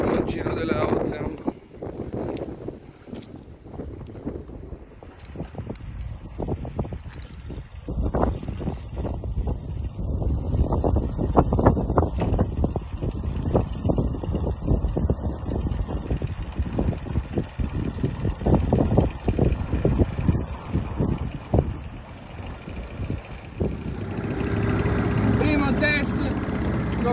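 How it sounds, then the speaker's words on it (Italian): A Tohatsu 15 hp two-stroke outboard motor on a 3.30 m Ozean inflatable boat, running steadily under heavy wind buffeting on the microphone, with someone speaking over the engine and a change in tone near the end. "oggi farò il primo test col motore sul gommoncino della Ocean."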